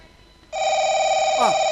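A telephone suddenly starts ringing with a loud, steady electronic tone that holds unbroken, with a brief voice sounding over it near the end.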